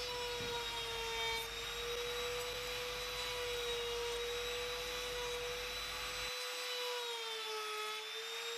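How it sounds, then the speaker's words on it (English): Small router cutting a half-round profile along the top edge of a small wooden box lid, a steady high-pitched motor whine with continuous cutting noise lasting throughout, close and fairly loud, with no talk. "And putting a half round on the top of the small router."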